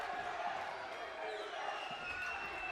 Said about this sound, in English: And the crowd is fired up.